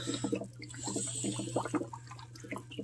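Water in a tank bubbles and drips with small wet pops and gurgles, fairly faint and close, over a steady low hum from equipment.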